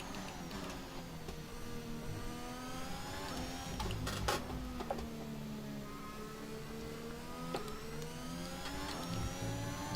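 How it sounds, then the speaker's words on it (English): An F1 car in the F1 2021 racing game gives a high hybrid-system and turbo whine that rises and falls with engine speed over a continuous droning engine, with a few sharp transients. No voices are heard. "That whine in the background, I believe that's from the hybrid systems and the turbo."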